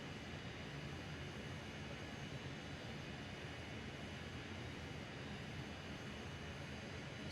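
Dornier Do 31 VTOL lift thrusters at full thrust in Microsoft Flight Simulator 2020, a loud, steady jet roar that holds unbroken throughout with no voices.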